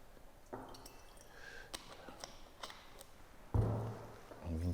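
Water rinses a laboratory flask: scattered drips and small splashes, then a louder, fuller gush of pouring water near the end, with no voices.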